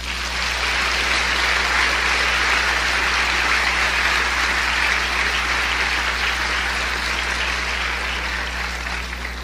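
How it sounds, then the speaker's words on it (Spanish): A church congregation applauds, a broad sustained patter of many hands clapping for the whole stretch, evenly loud over a low steady hum. "Denle otro aplauso al Señor"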